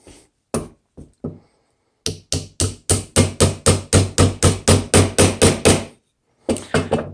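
Sharp hammer blows drive a nail into wood, a few scattered taps first, then a steady run of evenly spaced hits, then a short final flurry.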